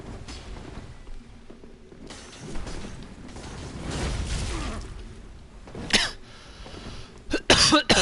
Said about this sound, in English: Oh, this cough, man.